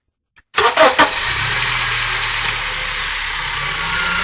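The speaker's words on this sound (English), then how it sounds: "Now watch when we turn the engine on" A 2002–2006 Honda CR-V engine cranks briefly and catches, then settles into a steady, loud, close idle hum that runs on unbroken with no talk.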